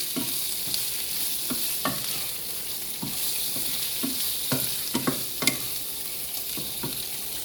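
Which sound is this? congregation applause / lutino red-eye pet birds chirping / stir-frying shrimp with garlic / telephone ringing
stir-frying shrimp with garlic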